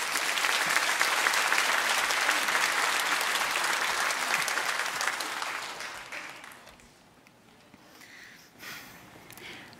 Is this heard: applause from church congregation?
yes